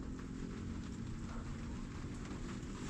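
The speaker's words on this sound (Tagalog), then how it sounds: "Nabasa lang kami ng ulan" Rain falls steadily outdoors at a work site, a dense, even hiss that stays constant and fairly soft throughout, with no voices.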